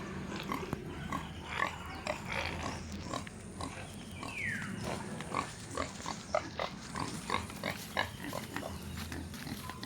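Pigs grunt repeatedly on a Philippine farm, low rumbling snorts steady through the whole stretch, with birds calling and chirping over them at moderate distance.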